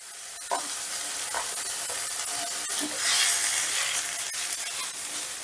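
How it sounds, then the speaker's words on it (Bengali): Mashed lentil paste is stirred and dried in a frying pan: a steady soft sizzle runs under repeated scraping strokes of a spatula against the pan, with a louder burst of hissing partway through. "এবার এই দানাটাকেও একটু নাড়াচাড়া করে শুকিয়ে নেব"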